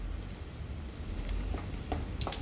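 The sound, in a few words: frying chicken skin fritters in oil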